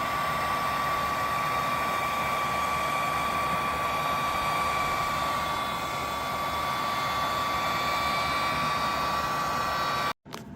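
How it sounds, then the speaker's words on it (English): A heat gun warming adhesive on a Porsche front splitter blows with a steady, loud whooshing roar and a thin whine, running unbroken for about ten seconds before cutting off abruptly. "Got a heat gun to heat up the glue, the adhesive, to help it stick a little better."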